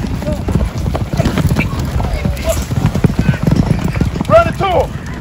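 Horse hooves clip-clop in a quick, steady rhythm as a horse is ridden, with a brief whinny near the end and people talking and shouting over the hoofbeats.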